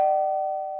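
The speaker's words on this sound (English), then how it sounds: "The doorbell's ringing because Fire connected the wires together." A cartoon doorbell rings once as a single clear, sustained electronic tone that starts sharply and fades slowly under a second, with nothing else around it.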